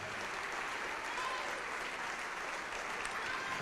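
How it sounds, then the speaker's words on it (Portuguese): A church congregation at an evangelical service applauds in a steady, even wash of clapping, heard fairly faint and distant throughout. "E vamos aplaudir mais ao nome do Senhor"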